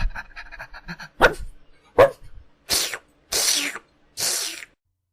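A dog barks and huffs indoors in an animated scene, several short loud bursts spaced about a second apart after some faint background sounds, with no talking over them.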